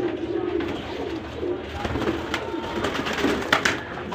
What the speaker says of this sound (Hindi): डब वाला कबूतर है।